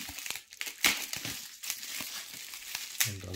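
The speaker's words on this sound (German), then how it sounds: "Noch ein bisschen Tesafilm entfernen." Adhesive tape is peeled and crinkled off the packaging of a Laco 1925 Kiel Sport Flieger chronograph watch set, a series of close, quiet crackling rips and rustles.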